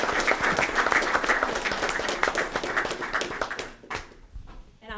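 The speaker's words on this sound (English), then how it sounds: "And we want to have a round of applause for Mr. Miller." A city council meeting audience gives a round of applause, dense clapping that holds steady for about four seconds before thinning out into scattered claps and quiet.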